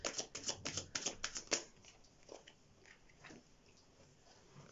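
Tarot message cards shuffled in a quick riffle, a rapid run of crisp papery flutters for about a second and a half, then a few soft scattered card taps and rustles fading into quiet.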